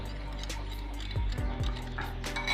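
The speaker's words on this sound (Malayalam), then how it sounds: "രണ്ട് മുട്ട ഇതിലേക്ക് പൊട്ടിച്ച് ഒഴിച്ചിട്ടുണ്ട് ഇത് നന്നായിട്ടൊന്ന്" Eggs being stirred into a cutlet mixture in a bowl, giving soft wet stirring and a few light clinks of a spoon against the bowl, close by under a faint background hum.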